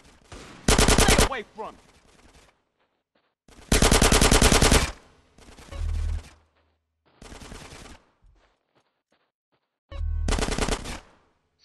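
Machine gun covering fire in GTA San Andreas Definitive Edition: several loud sustained bursts of automatic fire, each about a second long, separated by pauses in which someone shouts briefly.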